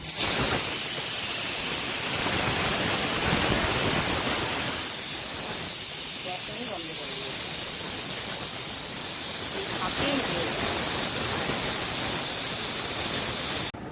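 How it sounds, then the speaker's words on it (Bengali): A pressure cooker on a stove lets off steam in a loud, steady hiss that holds for the whole stretch with little change in strength. "এই সিটিটা এখন পড়লো বলে সিটিটা পড়লেই আমি বন্ধ করে দেবো"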